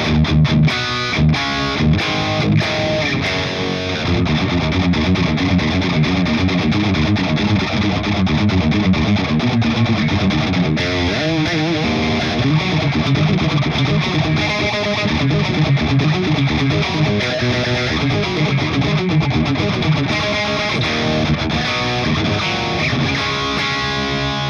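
An electric guitar runs through a Crate GFX 1200H amplifier head with heavy metal distortion, playing loud, dense chugging riffs and sustained chords without a break, with no talking.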